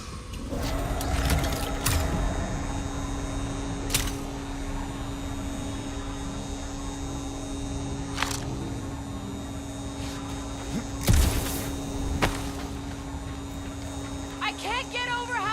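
In the video game Marvel's Guardians of the Galaxy, an oversized vacuum machine on Contraxia drones continuously with a steady mechanical hum, occasional clanks and clicks over it, running nearby.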